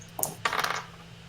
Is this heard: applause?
no